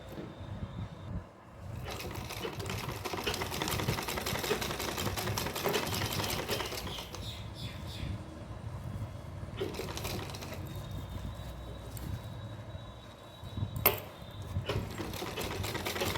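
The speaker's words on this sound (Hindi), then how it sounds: "तो यहाँ से रखेंगे सिलाई को इस तरह से।" A sewing machine runs in steady bursts while stitching a fabric strip onto a small dress, the motor whirring continuously with brief pauses and restarts, close and fairly loud with no talking.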